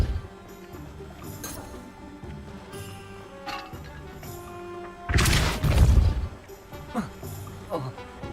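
A Depulso spell cast in the video game Hogwarts Legacy gives a loud, forceful burst about two-thirds of the way through, rising over quieter ambient game sounds and music.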